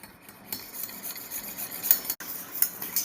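A big spoon beats yogurt in a bowl for Bengali mishti doi, giving quick, close scraping and tapping strokes in an uneven stirring rhythm, quiet and alone.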